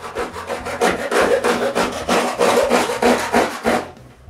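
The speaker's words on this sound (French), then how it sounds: "je coupe le formica avec ma scie japonaise" Japanese pull saw cutting through formica laminate on a folding table, a steady rhythmic run of about a dozen rasping strokes close by, stopping just before the end.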